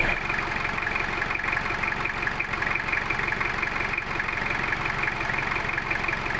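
An owner-type jeep engine idles steadily and fairly quietly at close range, a smooth, unbroken hum with a faint mechanical ticking and no voices.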